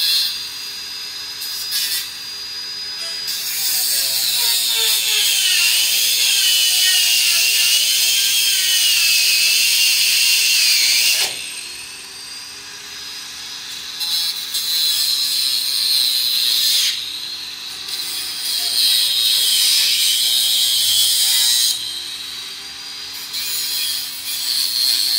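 A power tool grinds away during a DIY greenhouse build: a loud, sustained high-pitched whine that rises and falls in pitch, easing off briefly a few times before biting in again, with no talking.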